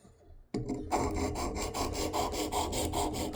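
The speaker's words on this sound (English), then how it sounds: "now we're starting with the 400 grit" A Kershaw Blur knife is drawn over the 400 grit abrasive of a Work Sharp Elite Precision sharpener, making a close, steady rasping scrape in rhythmic back-and-forth strokes after a brief quiet start.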